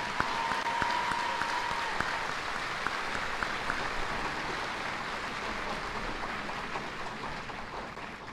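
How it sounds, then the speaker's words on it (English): Audience applause for an Army band at a Fort Jackson basic training graduation ceremony, a steady dense wash of many hands clapping at a distance, sustained evenly throughout with a few sharper claps near the start. "Please join me in a round of applause for our great band."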